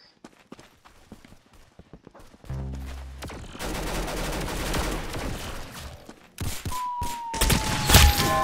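Gunfire in a first-person shooter video game: bursts of rapid shots in a loud, dense stretch, with scattered sharp impacts and footstep-like clicks before, and another loud volley near the end.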